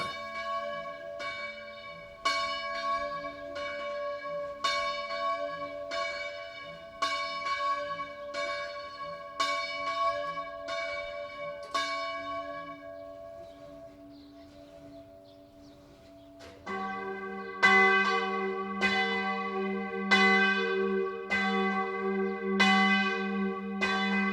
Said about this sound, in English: you'll also hear the mechanism swinging up in the bell tower